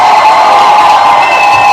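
An audience claps and cheers for a guest, a loud, continuous wash of crowd noise with a bright, slightly tonal edge that holds steady for a couple of seconds without a break.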